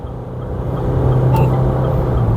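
GWM P300 bakkie diesel engine holding a low gear in manual mode, a steady droning hum with a slight rise in loudness partway, heard from inside the cab.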